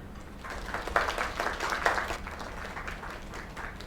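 Video game crowd applauds steadily at moderate volume, the clapping swelling briefly in the middle and then settling into a softer patter.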